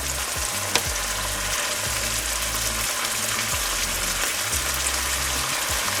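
Vegetables are tipped into a hot frying pan for a tater tot hot dish, setting off a loud, close, steady sizzle punctuated by a few soft utensil knocks.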